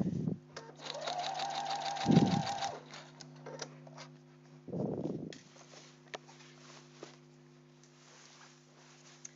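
A sewing machine stitches a parka in short, fast mechanical bursts with a rhythmic whirring chatter, broken by pauses and thumps of handling, all heard up close over a low hum.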